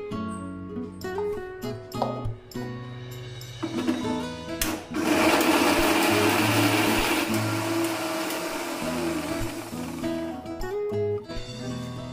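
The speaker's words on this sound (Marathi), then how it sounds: "त्याच भांड्यात मी खोबरं, लसूण, अद्रक, कोथिंबीर टाकून हे मिक्सरला बारीक करून घेते." A kitchen mixer grinder whirs loudly as it blends coconut, garlic, ginger and coriander, with clattering and brief starts before a sustained roar of several seconds, then stops and settles into intermittent clinks.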